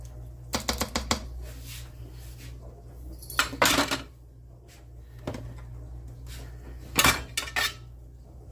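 Beef stew in a crockpot gets a brief mix, producing short clusters of clinking and scraping as a spoon knocks the pot, separated by quiet pauses, fairly close and with no speech.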